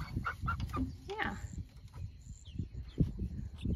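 A newly hatched batch of young chickens, mostly hens with one rooster, clucks and chirps in a farmyard pen, several short calls overlapping at moderate distance with background rustle.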